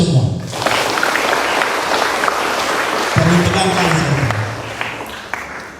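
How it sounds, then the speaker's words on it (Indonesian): Applause from an audience at an Indonesian school ceremony for students going home and the inauguration of the OPPEMADU organisation, steady and loud throughout, with a voice briefly heard over the clapping midway. "Tepuk tangan dulu untuk kita semua."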